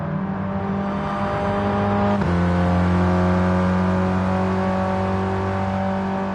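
A 1965 Mini Cooper S races around a circuit during a championship event, its engine droning loudly and steadily before a gear change and a higher-pitched pull, close and continuous without voices.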